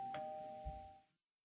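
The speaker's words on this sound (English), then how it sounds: "that's the sound of a doorbell" A single electronic doorbell chime from a Minecraft furniture mod, made with a note block, sounds clearly, a short tonal ring that fades out quickly into silence.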